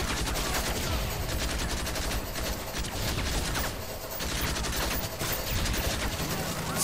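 A turret machine gun in the SpecOps Resistance video game hammers out a dense, continuous stream of rapid shots, loud and close, with only brief dips in the barrage.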